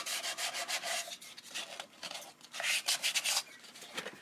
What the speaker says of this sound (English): Alright, so I just did a rough sand in there